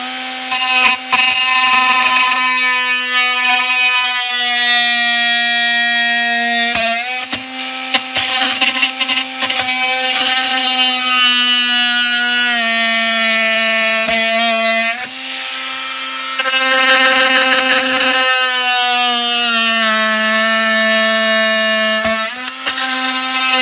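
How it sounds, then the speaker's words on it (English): Kimo 20V cordless oscillating tool cutting into a flooring corner, a loud, close, harmonic-rich buzzing drone that steps slightly in pitch as the blade bites and eases, running nearly nonstop with a few brief dips. "pull out the old oscillating tool and away you go"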